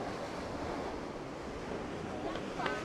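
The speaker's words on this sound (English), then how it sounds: "ocean over here." Ocean surf washing against the Cijin Island shore in Kaohsiung, a steady broad wash of breaking waves with wind buffeting, close and continuous, with a couple of faint brief higher sounds near the end.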